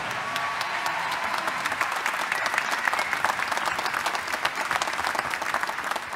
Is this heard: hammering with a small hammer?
no